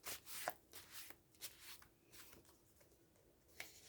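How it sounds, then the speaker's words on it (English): Tarot cards being shuffled close up, a few quick riffles and soft rubbing bursts, quiet, with longer pauses between. "shuffle a little bit more."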